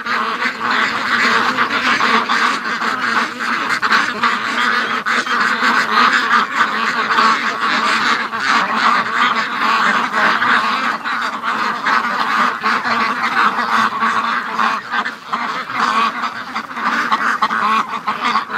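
Free-range geese and ducks call in a busy flock, honks and quacks overlapping continuously and fairly close, with no break in the chatter.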